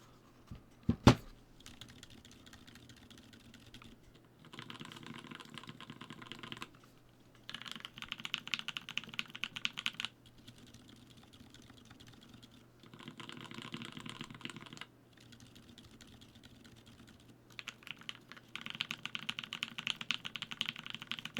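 Custom mechanical keyboard fitted with silent linear switches being typed on at a desk, heard as bursts of muffled, soft key presses separated by short pauses, fairly close and alone with no talking.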